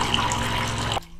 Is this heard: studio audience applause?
no